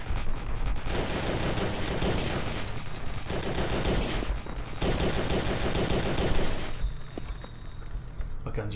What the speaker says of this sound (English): What guns are these? Micro SMGs?